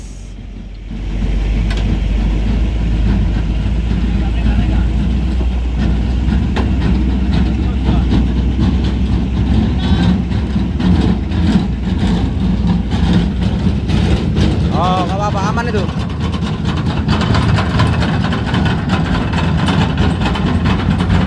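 A broken heavy truck engine runs steadily with a deep, rough, knocking low rumble throughout, and voices talk over it.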